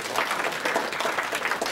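A panel audience at a talk on Ukraine breaks into brief, dense applause, many hands clapping together in a steady close patter that continues through the short moment without pause.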